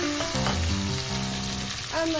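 Ginger and garlic sautéing in hot oil with curry leaves for Kerala shark curry, a brief, close, steady sizzle with a tonal voice-like sound over it.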